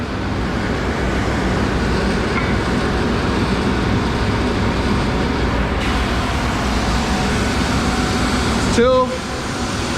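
A Time Saver wide belt sander runs with a loud, continuous broadband roar throughout, a brief knock near the end as boards feed through the wide belt.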